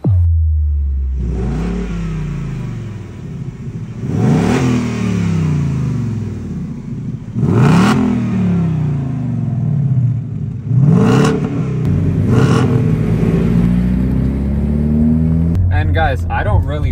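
A tuned Hyundai Elantra N races a Mustang GT, engines roaring loud and close as they accelerate through repeated rising gear pulls, each shift marked by a sharp break before the revs climb again.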